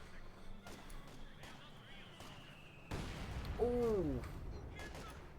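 Machine-gun and artillery fire from a Company of Heroes 2 multiplayer battle between Soviet and German OKW armies, faint and muffled. Scattered shots and a heavier rumble partway through sit under a commentator's voice.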